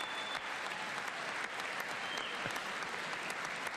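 Sustained applause fills the chamber of Congress during a presidential speech, a dense, steady wash of many hands clapping with no speech on top.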